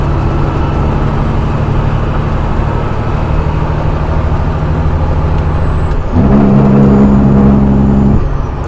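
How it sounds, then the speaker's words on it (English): A truck's engine brake rumbles steadily while it drives through a blizzard. The drone is loud and continuous under road noise, then deepens and grows stronger near the end. "Listen to that engine brake"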